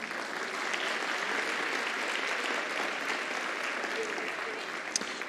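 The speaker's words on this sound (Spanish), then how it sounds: "Un aplauso" An audience at a masterclass session applauds, with a steady, even wash of many hands clapping throughout, moderately distant and without speech.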